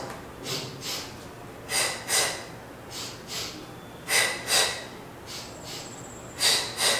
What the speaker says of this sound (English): we're going to do the double breaths today because it's a little more advanced breathing pattern